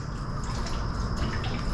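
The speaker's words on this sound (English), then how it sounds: "So we'll add some water right into this." Water pours steadily into the coolant tank of a 2017-2023 Chrysler Pacifica, a close, continuous splashing gush with no pauses.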